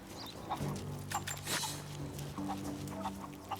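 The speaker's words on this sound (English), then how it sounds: "Catch chickens and throw them into the chicken pen." Chickens cluck in scattered short bursts in Rise of the Tomb Raider, set against a sustained low game ambience and brief sharp sound effects, with no talking.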